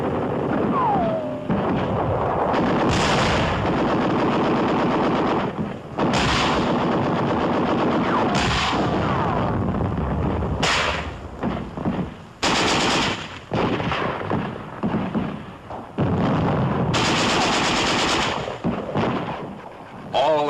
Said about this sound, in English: Resistance in most cases is that of a single Nazi sniping from a cellar or attic.